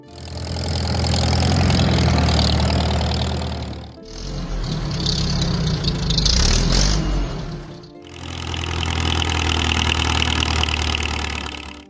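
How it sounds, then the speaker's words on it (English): A Farmall H tractor's 4-cylinder engine runs with a loud, rough, knocking rumble, heard close in three separate stretches with brief breaks between them. "you probably heard the 4-cylinder engine of the Farmall H roaring through rows of corn and hay"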